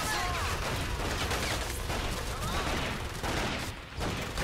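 A dense barrage of gunfire and explosions from the World War II shooter Medal of Honor: Pacific Assault, a continuous chaotic fusillade over a loud battle background.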